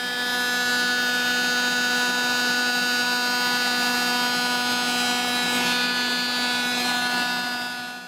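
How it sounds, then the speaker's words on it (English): Heat gun shrinking heat-shrink tubing over a crimped wire connector, a loud, steady blowing whine with a constant tonal hum that holds evenly throughout. "Use the heat gun to shrink the tubing."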